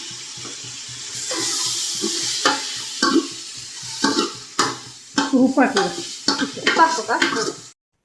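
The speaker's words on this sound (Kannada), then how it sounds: "ಇದು ಸಾಂಬಾರಿಗೆ ಫ್ರೈ ಮಾಡ್ತಾ ಇರೋದು." Spices sizzle in a pan as chicken sambar is started in a home kitchen, with intermittent close stirring and scraping bursts, some splashy and watery, between softer frying hiss.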